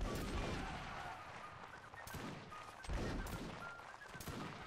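Game gunfire from a squad-based war shooter, with irregular bursts of distant and mid-range shots crackling over a steady battlefield rumble, sharper volleys landing around the two- and three-second marks.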